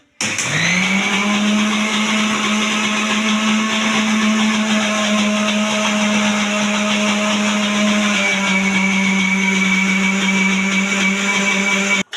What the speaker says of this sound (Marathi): वाटून घेऊ आता आपण